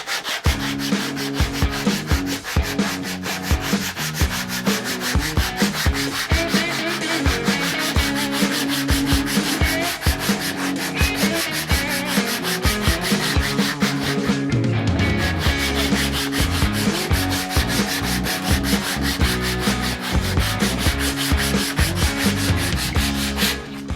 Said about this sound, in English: now I'm going to just sand in the final shape, or at least very close to the final shape